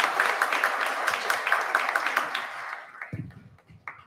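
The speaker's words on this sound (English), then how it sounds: "We'll have one applause for her." Audience at the opening ceremony of an innovation center clapping in a moderate, steady patter that tapers off, followed by a few thumps and quieter room sound.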